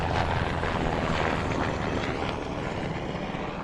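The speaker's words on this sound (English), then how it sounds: "That is a big military helicopter." A big military helicopter flies overhead, producing a loud, continuous rotor and engine roar that fades slightly toward the end, with no talking.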